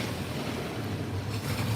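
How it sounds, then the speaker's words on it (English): Wind-driven chop breaking on Lake Wakatipu near Queenstown, New Zealand, heard as a steady, loud wash of waves mixed with wind buffeting the microphone, no voices. "Now you can hear all these waves breaking."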